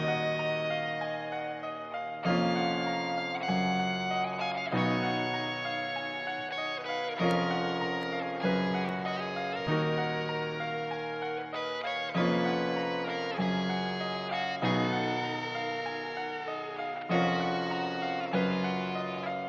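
Trap ballad melody played on piano and guitar, with sustained chords that change every couple of seconds and plucked notes that decay between them; it runs steady and moderately soft, with no voices.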